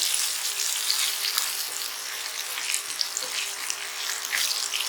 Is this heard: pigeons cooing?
no